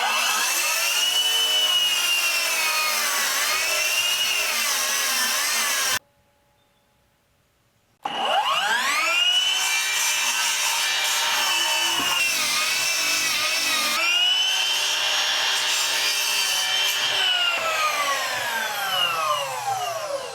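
A power saw cuts through timber posts for an outdoor pizza oven bench, a loud, steady whining drone that stops briefly for a couple of seconds, then resumes with rising and falling pitch as the blade works through the wood.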